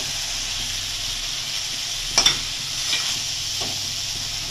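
Tengra fish frying in a pan, a steady close hiss of sizzling oil with a brief louder crackle and stirring scrape partway through.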